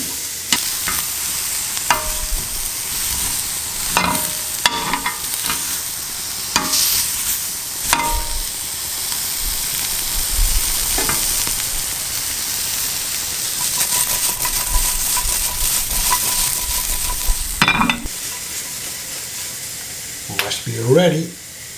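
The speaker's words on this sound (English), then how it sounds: "you just wait for the peppers and the onion to be ready" Venison with red peppers and onion sizzles steadily on a grill pan, a loud, close, continuous frying hiss broken by scrapes and clinks of stirring, with occasional talk underneath.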